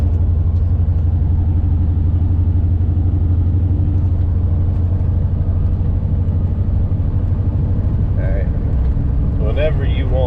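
A cammed Chevrolet-style GMC Sierra truck engine with larger injectors and a Circle D torque converter stall, rumbling loud and steady at close range throughout, with brief faint voices near the end.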